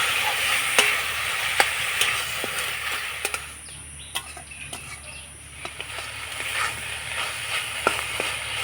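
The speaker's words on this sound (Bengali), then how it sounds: "এবার নাড়াচাড়া করে আমি পুরটা তৈরি করে নেব।" Grated coconut and jaggery filling stirred in a wok, soft continuous hiss with sharp spatula clicks and scrapes at irregular intervals, close and fairly faint.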